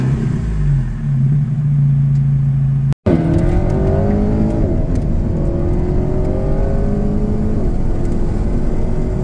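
Alpine A110R engine in sport mode, a steady loud drone that cuts out briefly, then revs up with rising, sweeping pitch and a slight pop before easing back, heard from close by with no talking.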